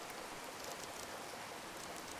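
Steady rain falling on a tropical island in the survival game Card Survival: Tropical Island, a continuous soft hiss with no voices.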